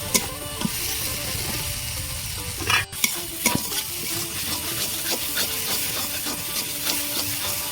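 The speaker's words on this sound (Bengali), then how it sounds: "ভালো করে আমি কষিয়ে নিয়েছি" Pangas fish kalia gravy frying in oil, a loud dense sizzle and hiss close by, with scattered scrapes and knocks of a spatula stirring throughout.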